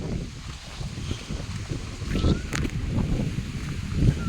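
Strong wind gusts outdoors at the King Taksin monument, a continuous rumbling roar buffeting the microphone with shifting swells, close and fairly loud, with no talk.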